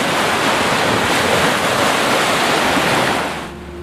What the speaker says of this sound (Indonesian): sampailah mereka di tepi Laut Merah yang sepanjang malam gelisah bergemetaran, meluapkan gelombang-gelombang yang saling berbenturan.